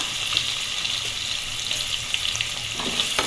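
Sliced onions sauté in an oil-filled pan for a cauliflower chapati curry, with a steady, soft sizzle and faint crackles and stirring scrapes throughout, no voices.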